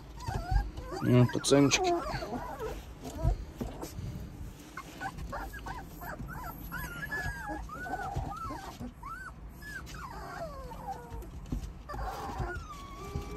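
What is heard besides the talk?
puppy growling and whimpering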